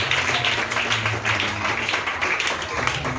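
Applause from a church congregation during a sermon, a steady dense wash of clapping throughout, with a voice faintly present underneath.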